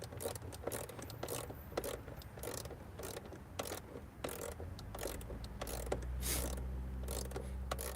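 Repeated ratcheting clicks from a wrench tightening a bolt while a battery is swapped in a 2013 Ford Escape, a steady run of close mechanical ticks over a low hum, with no talking.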